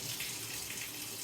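A tap runs steadily in a shower, a soft, even hiss of flowing water with no talking.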